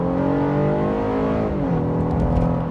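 2024 Honda Ridgeline Black Edition pickup accelerating hard off the line in sport transmission mode, engine rising loudly in pitch with a gear shift partway, heard from inside the cabin.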